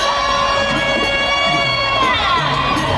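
A crowd of PSI party supporters at an ogoh-ogoh parade event cheers and shouts continuously, with high-pitched whoops and children's voices in a dense, loud wash of noise.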